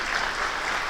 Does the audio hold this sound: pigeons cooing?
no